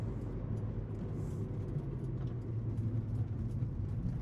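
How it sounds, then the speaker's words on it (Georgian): A Subaru Forester's engine gives a steady low hum and rumble from inside the moving car, with faint road noise and no voices. "გესმით ალბათ რა, ეს Subaru-ს ხმა."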